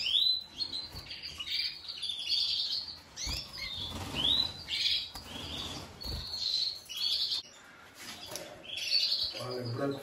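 A Spanish breed canary chirps in a series of bright, quick tweets and short trills that repeat throughout, fairly near but soft, with faint rustling and a few low background noises.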